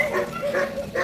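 Several dogs bark and yelp repeatedly in a short, busy burst heard outdoors during a morning walk. The yelps are fairly close and overlap one another.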